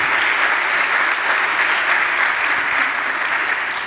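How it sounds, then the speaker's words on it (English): An audience at an academic career development workshop claps steadily and loudly after a presentation, a dense, even wash of applause with no voices. "we applaud Maria José González"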